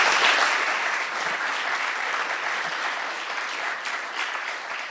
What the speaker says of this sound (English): Big round of applause for our special guests.